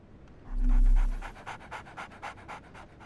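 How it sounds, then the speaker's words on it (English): A dog pants in the Sherlock Holmes: The Awakened remake video game, a steady run of quick, close breaths after a brief low droning tone. "So, Barnes has a dog now."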